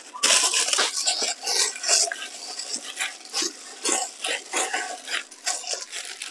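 Steady scraping and stirring in a large metal pot as ingredients for stuffed snail cakes are mixed by hand, with irregular clanks and swishes, close and fairly loud.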